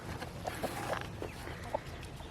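Chickens and roosters in a crowded flock, a series of short, close clucks and squawks over a constant low background murmur.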